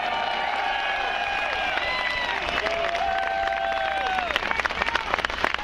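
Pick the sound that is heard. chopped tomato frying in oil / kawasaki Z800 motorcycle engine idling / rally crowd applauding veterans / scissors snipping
rally crowd applauding veterans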